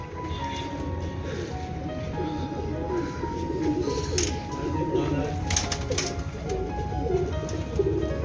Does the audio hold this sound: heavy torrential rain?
no